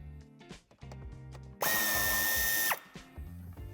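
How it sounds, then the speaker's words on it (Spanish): A power tool drives out the corner screw on the bumper of a 2020 Cupra Formentor, a loud whirring burst of about a second with a rising whine, set between quieter clicks and handling noises. "quitaremos el tornillo de la esquina"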